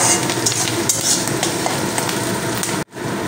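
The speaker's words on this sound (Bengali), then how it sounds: "তো এবারে আমি কুচিয়ে রাখা কাঁচা লঙ্কা দিয়ে দিলাম।" Chopped green chillies sizzle in hot oil in a frying pan, a loud steady crackling fry with a spoon stirring, then a brief break near the end.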